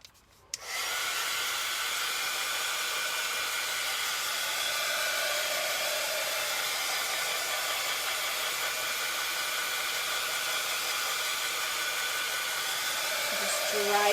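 A hair dryer clicks on and blows a loud, steady rushing hiss over a freshly painted stencil sign, running without pause close to the microphone.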